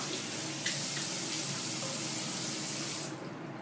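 A tap running steadily into a sink while a face is rinsed, a loud continuous close splash that eases off near the end, with no voices.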